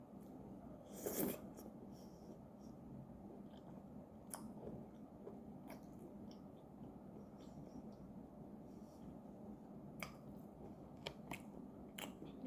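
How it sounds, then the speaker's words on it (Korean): Someone bites into an orange and chews it, with one louder crunchy bite near the start followed by quiet, steady wet chewing and a few small clicks, close to the microphone. "오렌지를 먹어볼게요."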